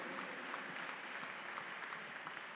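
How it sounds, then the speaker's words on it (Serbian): An audience claps for the presenters after a talk on building a team defense system, a dense, steady round of applause filling the room throughout, with no one speaking. "Let's give a big hand to these guys."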